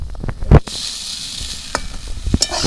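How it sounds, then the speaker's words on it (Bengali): Cauliflower fries in a covered pan, with a steady hiss of sizzling broken by sharp clanks and scrapes as the lid comes off and the pieces are stirred, close and fairly loud. "আমি কয়েকবার ঢাকা খুলে খুলে নাড়িয়ে ভালো করে ভাজছি"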